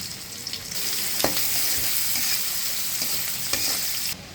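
Chopped onion frying in oil with whole cumin and garam masala as the base for a chicken curry, a steady close sizzle with a few scraping stirs of a spoon, and no one talking.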